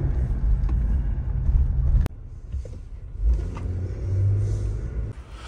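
A Jeep Wrangler's engine rumbles loudly from inside the cabin on a test drive; the sound cuts sharply, then a quieter drone swells and fades as the SUV moves on.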